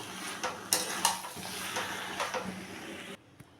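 A spoon stirs and scrapes through a vegetable curry with lemon leaves and coriander in a pan, with a few sharp metal clinks over a soft sizzle, then the sound cuts off abruptly.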